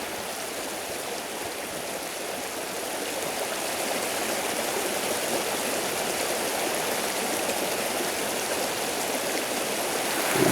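A forest stream in Thornton Hollow rushes steadily while a water bag is filled at a backpacking camp, a loud continuous broadband wash that swells slightly toward the end, with no talking.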